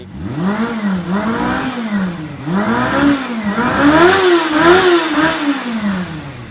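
A 1994 Honda CB400 motorcycle engine is revved repeatedly up close, rising and falling in loud rhythmic swells about every second and a half with no talking.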